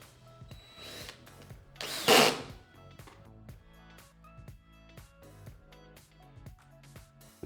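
A power driver sends 14.5 mm system screws into Blum Revego pocket door hardware, one short loud whirring burst standing out against quieter tapping and handling noises nearby.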